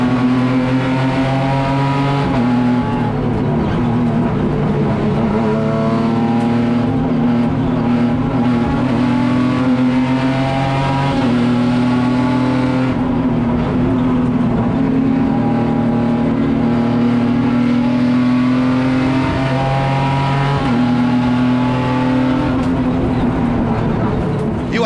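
Race cars roar off the line at the start of a race at the Tarumã circuit, a loud, dense pack of engines accelerating and revving together, sustained and close throughout.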